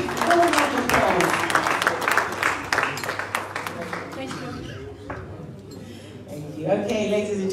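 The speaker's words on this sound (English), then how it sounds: "Please give her a round of applause." Crowd applause at a town hall meeting and fundraiser in Manchester, a few seconds of lively clapping that thins out, with voices talking over and after it.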